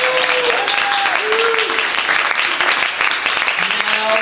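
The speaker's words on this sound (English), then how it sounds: "let's give a big round of applause for Malvern Books for hosting tonight" Audience applause at a book launch at Malvern Books bookstore, continuous and fairly loud, with a voice talking and gliding over the clapping throughout.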